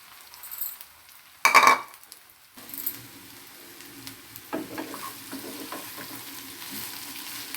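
Cut bitter gourd pieces drop into a hot pan with a sudden loud sizzle that settles into quieter frying, with faint stirring and a few clinks of a spoon against the pan.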